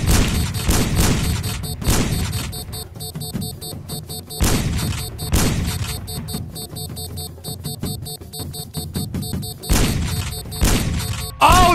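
Bursts of rapid gunfire in the video game Sneak Thief come in several loud volleys with booming thumps between them and brief pauses.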